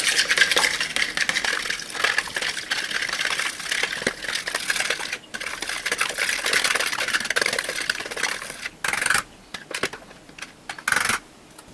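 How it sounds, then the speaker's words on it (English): Eggs beaten in a mixing bowl for zucchini bread batter, a steady run of fast whisking clicks and scrapes against the bowl, close and fairly loud, with a few brief pauses near the end and no talk. "Now let's go ahead and beat the eggs really well."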